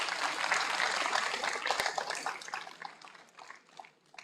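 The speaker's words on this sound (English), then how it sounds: "So give her a clap." Audience clapping at a university convocation ceremony, a dense wash of applause from a large hall that thins and fades toward the end.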